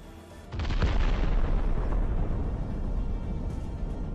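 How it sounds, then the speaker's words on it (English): A drone strike on a Russian vehicle sets off a sudden loud explosion after a brief quiet moment, followed by a sustained roaring, crackling rumble that keeps going as debris and fire continue. "The explosion is like a volcanic eruption."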